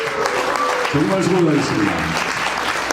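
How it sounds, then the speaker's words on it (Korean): Audience applause at a cyber university's autumn festival concert: a dense, steady clapping crowd that swells partway through, while someone speaks over it through a PA. "여러분 각자에게 박수 한번 쳐주시고"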